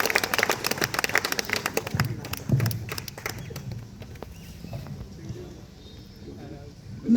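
An audience at an evening music programme of Hindi songs claps to welcome a guest, scattered hand claps fading gradually under room noise and talk.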